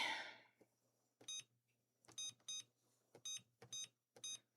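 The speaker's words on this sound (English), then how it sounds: "Can you guys tell what I'm typing just from the beeping noises?" A run of short electronic beeps from an Anycubic Kobra 4 3D printer's touchscreen while entering Wi-Fi details, mostly single with a few doubled, at an irregular typing rhythm over a low steady hum; a brief hiss opens.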